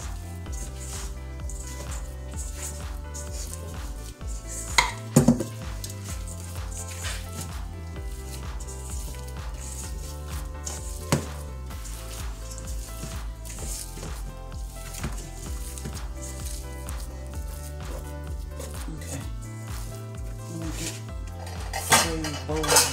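Hands mixing plant-based food in a bowl, with soft squishing and occasional clinks of the bowl and cutlery over a steady background, no talking.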